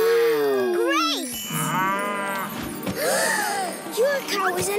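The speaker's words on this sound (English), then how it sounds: "Your cow is alive, Chloe!" An animated cow in a children's cartoon episode moos, its mooing mixed with other lively cartoon sound effects and nearby character voices talking.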